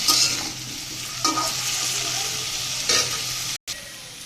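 Carrot, turnip, bean and potato pieces stir-fry in a pan with a steady close sizzle and recurring scraping stirs, broken briefly by a short silent gap near the end, with no talk.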